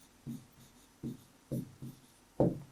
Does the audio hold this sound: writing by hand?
yes